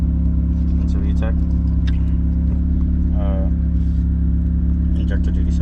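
A turbo Honda Del Sol engine revving toward VTEC while being tuned, a loud, close droning roar with strong steady tones throughout, with voices talking over it.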